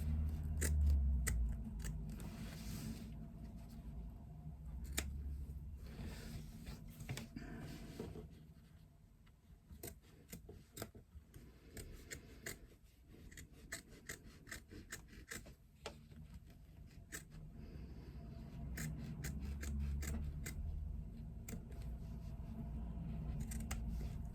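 Scissors held sideways snip and crunch through soft foam in a long series of close, irregular cuts, with rustling and handling between strokes.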